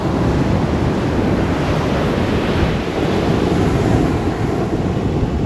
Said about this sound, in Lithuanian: o bangos kokios gražios.